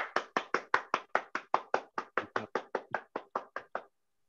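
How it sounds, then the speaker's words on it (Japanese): Sharp, evenly spaced claps, about eighteen in a quick steady rhythm, sound close and clear, then stop, as a small bar-style talk show welcomes its two guests, footballers Hotaka Nakamura and Kazuya Konno. "拍手。"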